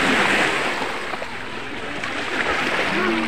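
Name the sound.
strong ocean waves at beach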